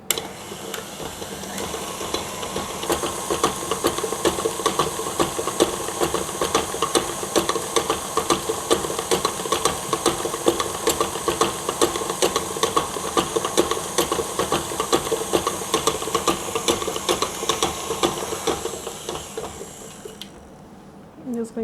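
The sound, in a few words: mixer beating sugar and oil for eggless vanilla cake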